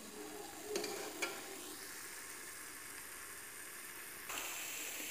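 Onions fry in a pan for a mutton masala, a soft, steady sizzle with a couple of brief clinks of stirring near the start. It stays faint and even throughout, with no talking over it.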